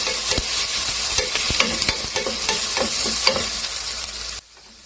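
Chopped garlic and onion are stirred in a hot frying pan, a dense, loud sizzle broken by repeated scrapes and knocks of a utensil that stop abruptly near the end, with no talking.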